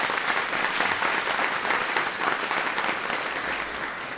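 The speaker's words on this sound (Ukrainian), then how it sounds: "Ваші оплески." An audience at a televised talk show applauds continuously, with dense, even clapping that stays steady and full for the whole stretch and fades only slightly at the end.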